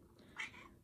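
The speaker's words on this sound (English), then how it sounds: "so that's the cat." A pet cat indoors gives a single short, faint meow against quiet room noise.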